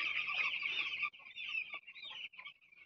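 Broiler chicks on a poultry farm cheep and chirp continuously, a steady high-pitched chorus that thins into a few separate peeps toward the end.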